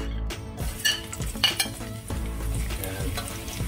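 Ginger frying in hot cooking oil in a pan for a chicken curry, a steady close sizzle with a few scrapes and clinks of stirring and utensils against the pan throughout.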